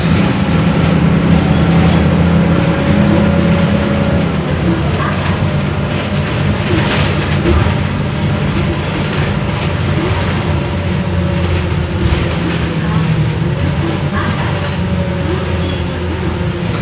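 A Transjakarta bus runs along the busway in Jakarta, its steady engine rumble and road roar continuous and close from inside the cabin, with no pauses.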